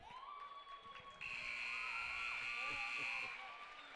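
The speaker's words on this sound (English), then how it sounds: "that buzzer means the end of the ball game" A basketball game-ending buzzer at a girls' varsity high school game, a loud steady electronic tone lasting about two seconds over crowd noise and an announcer's voice.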